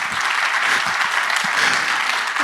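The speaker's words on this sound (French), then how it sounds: "Je pense qu'on peut l'applaudir." Audience applause at a presentation, a steady wash of many hands clapping throughout, close and even with no talking over it.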